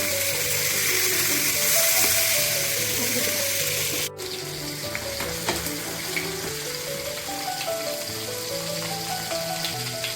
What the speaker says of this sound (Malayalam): അല്പസമയത്തിന് ശേഷം മീനുകൾ ഫ്രൈ ചെയ്യുക.